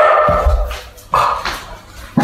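A dog barks a few times in short separate bursts during a quiet meditation talk, sounding moderately close and standing alone without speech over it.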